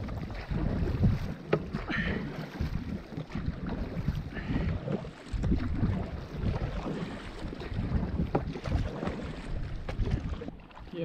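A shuttle punt fitted with a wave deflector is paddled hard across open water, with continuous splashing and rushing water mixed with gusty wind buffeting close to the microphone and no voices.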